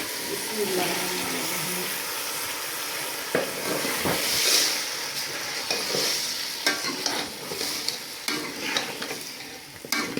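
Eggplant and potato pieces frying in a pan for an aloo baingan curry, a steady sizzle broken by scraping stirs and clattering utensil knocks, with brief water splashes, fairly close.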